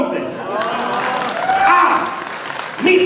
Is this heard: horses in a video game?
no